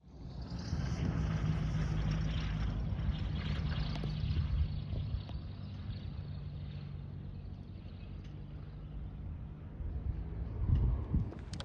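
A quiet airplane comes in to land at an airstrip by the Emmett City Golf Course in Emmett, Idaho, its low, steady engine drone filling the air and swelling slightly near the end.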